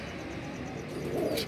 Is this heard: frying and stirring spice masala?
no